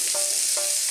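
Shrimp gambas with mixed ingredients sizzle in a hot pan, a steady close hiss with a couple of brief scraping stirs.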